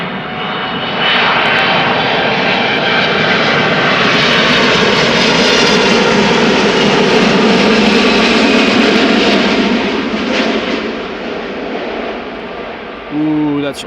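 Boeing 777 jet airliner engines roar loudly and steadily at Amsterdam Schiphol, a broad sustained rumble close by that swells, holds for several seconds and then eases as reverse thrust comes on.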